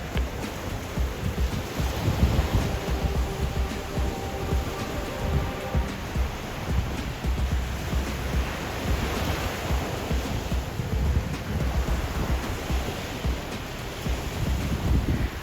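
A rough sea at Lingsat in Ilocos Sur surges onto the shore in a continuous churning wash, with steady wind buffeting the microphone throughout and no voices.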